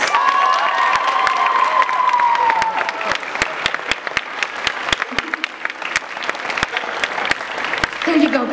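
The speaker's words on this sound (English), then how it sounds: "Give him a round of applause again" Audience at an anime convention costume masquerade keeps up steady, loud clapping with some cheering, a continuous wash of applause that runs the whole stretch with a voice talking over it early and near the end.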